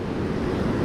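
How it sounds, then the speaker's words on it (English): Ocean surf on a sandy Oregon beach, with dark green waves crashing close by, makes a steady, loud, broadband roar with wind buffeting the microphone and no clear break between waves. "Successive crashing waves close by, pretty dark green."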